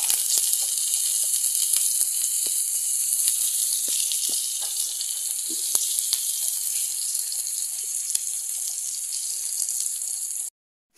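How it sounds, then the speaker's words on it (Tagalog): Tofu frying in a pan with sautéed garlic and onion, a bright steady sizzle and hiss running for about ten seconds with scattered small pops, stopping abruptly at the end. "ginigisa ko na yung bawang at sibuyas"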